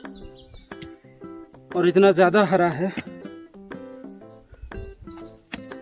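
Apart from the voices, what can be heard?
birds chirping in dense forest on a trek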